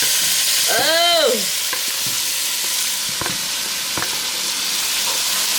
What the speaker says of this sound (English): Alright, so I'm just gonna saute this up.